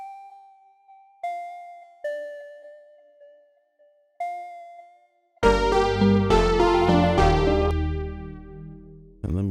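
Short synth arpeggio notes ring out alone in a sparse, decaying pattern, then a fuller layered beat with bass and chords enters halfway and plays to the end.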